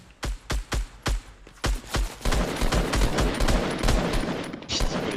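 Video-game SCAR rifle gunfire in a duo match: a quick string of separate, punchy shots, then a dense, continuous roar of firing and action that stays loud to the end.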